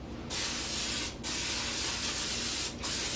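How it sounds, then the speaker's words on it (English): Three bursts of aerosol cooking spray hiss steadily, each a second or so long with brief pauses between, close and fairly loud. "We're going to spray some pan spray in the bottom of that, or any cooking spray that you have"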